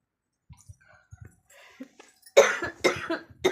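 A person coughing at night while lying in bed, a few soft coughs followed by a loud, harsh burst of two or three close coughs.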